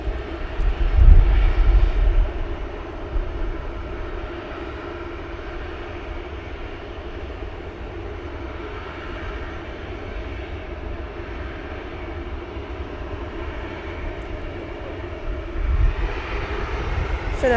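Finnair airliner arriving at Manchester Airport, a steady broad jet roar sustained throughout over gusty wind, with brief louder swells near the start and end.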